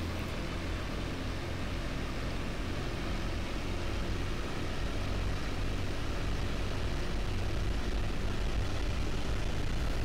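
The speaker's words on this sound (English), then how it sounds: "gradually increase your engine RPM to about 2500" Steady, loud propeller-engine roar of a Fw 190 D-9 Dora fighter running near 2500 RPM on the takeoff run in the DCS flight simulator, a constant dense drone without a break.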